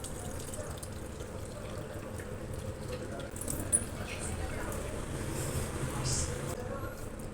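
Water trickling and dripping as curdled milk is squeezed out by hand for mango kalakand, a soft, continuous wet patter with faint background noise.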